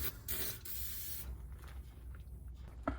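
Lubricant sprayed onto underside parts of a camper van conversion: a loud, steady aerosol hiss for just over a second, then quieter mechanical rustling and a small click near the end.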